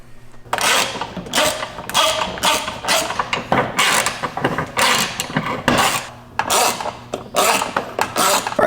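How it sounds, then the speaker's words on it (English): Socket ratchet tightening 13mm self-threading nuts onto a nerf step bar on an R5 M-Series truck installation, with repeated bursts of rapid clicking ratchet strokes, close and fairly loud, separated by brief pauses. "you can then take a 13mm socket and go ahead and tighten them down"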